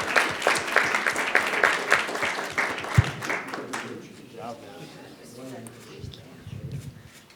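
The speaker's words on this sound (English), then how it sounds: "let's give our teams another round of applause for their awesome work today" Audience applause for winning teams at a business case competition, a dense burst of clapping for about three seconds that fades out as a speaker talks over the room.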